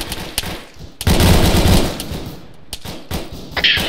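Sustained automatic gunfire in ARMA 3 during an infantry firefight, a loud dense burst of rapid shots rolling on for several seconds, with scattered single cracks before and after.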